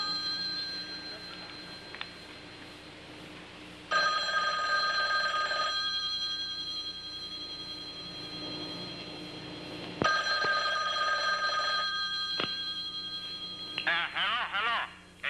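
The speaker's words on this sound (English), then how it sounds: "until 1 month ago when we received the following anonymous phone call." An old-style telephone bell rings in two long bursts separated by a pause, loud and close, with a faint voice at the end.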